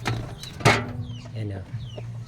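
Chickens cluck and chicks peep close by, including a black-feathered crossbred hen, with a faint voice in the background.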